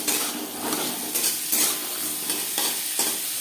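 Green peas stirred and frying in hot mustard oil for a vegetarian moong dal, a steady close sizzle with scraping stirs and light clinks of a utensil against the pan.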